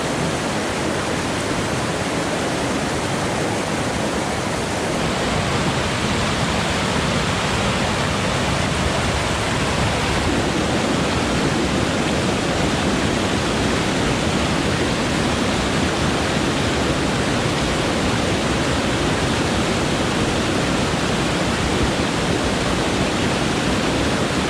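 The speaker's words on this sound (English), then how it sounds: "I'm ditching the trail and walking the creek." Rushing water pours continuously, a dense, loud, even wash like a fast creek flowing close by on an Alaskan mountain trail, with no voices.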